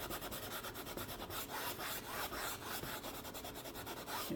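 Paintbrush scrubbing paint onto canvas while painting cloud layers, a steady soft rasping rub repeating in quick strokes, close and quiet with no talk.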